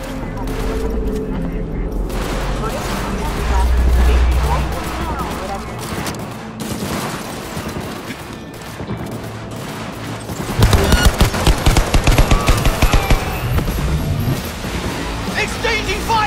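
Gunfire exchange in Cyberpunk 2077, with rapid bursts and booms over a rumbling game background, turning into dense, sharp repeated shots in the second half.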